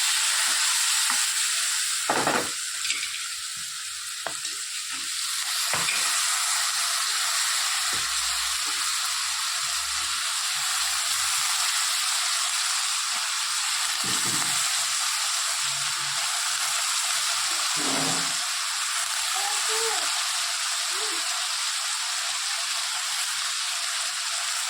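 Vegetables and spices for fried rice fry in a hot pan, a dense, continuous hiss of sizzling oil that holds steady throughout, with occasional scraping stirs and soft knocks close by and no talking.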